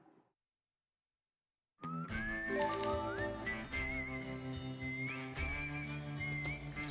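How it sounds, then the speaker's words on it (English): Call whistle summoning the monowheel in the game Wild Arms 5: after a brief faint noise and about a second and a half of silence, bright sliding whistle tones rise over a dense, sustained musical bed that continues to the end. "To summon the monowheel, use the call whistle item."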